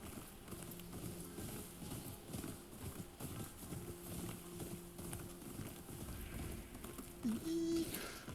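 Horse hooves clip-clop steadily in the video game Ghost of Yotei, a continuous rhythmic trot under game music and ambient noise, with a brief louder accent near the end.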